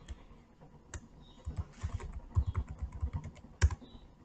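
Someone types a BitLocker password on a computer keyboard, a close run of quick key taps with a couple of heavier presses, quiet and without speech.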